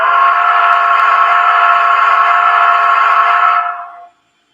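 A model railroad locomotive's whistle sounds loud and close in one long sustained blast lasting about four seconds, then fades and cuts off.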